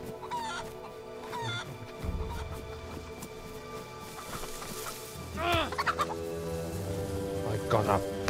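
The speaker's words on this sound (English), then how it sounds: "I can hear a chicken" Chickens clucking and gobbling in the survival video game DayZ, several bursts of close, loud fowl calls spread across the stretch, with a voice talking faintly at moments.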